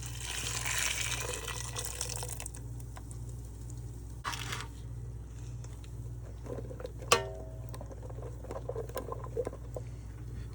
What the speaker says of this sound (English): now we're going to just pour the marinade over the top